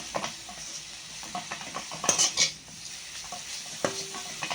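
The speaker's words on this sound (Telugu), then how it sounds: "బెల్లం వేస్తున్నాను. బాగా కలుపుకుందాం." Jaggery is stirred into a cooking carrot mixture, giving a soft sizzle under clinks and scrapes of a spoon against the pan, close and fairly quiet, no talk.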